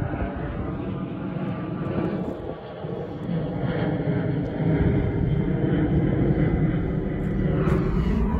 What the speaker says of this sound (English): The plane. That's JFK Airport.